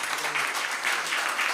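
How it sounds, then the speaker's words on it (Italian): Audience applause at the tenth edition of the Olbia literary prize ceremony in 2023, a dense, even wash of many hands clapping at steady volume throughout, with no talk over it. "io farei un altro applauso"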